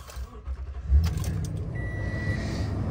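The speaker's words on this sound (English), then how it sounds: "Go ahead and get it started up." A 2017 Toyota Tundra SR5 pickup's engine turns over and catches, followed by a steady idle rumble and a faint chime inside the cab, close and without talk.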